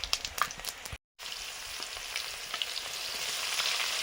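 Whole spices sizzling as they hit hot oil for tempering a brinjal and potato dish, a steady close crackle with a brief dropout near the start and a slight swell toward the end.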